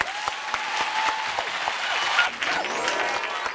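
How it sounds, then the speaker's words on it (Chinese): A studio audience at a Chinese talk show applauds steadily, a dense wash of many hands clapping close and full, with a few faint voices briefly mixed in underneath. "我们也给这位我们的观众朋友鼓鼓掌啊"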